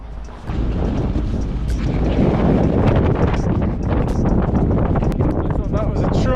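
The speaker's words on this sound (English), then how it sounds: "Super windy today, really cold." Strong, cold Arctic wind blows hard against the microphone during a solo bikepacking trip, a loud continuous buffeting roar with gusty bursts throughout.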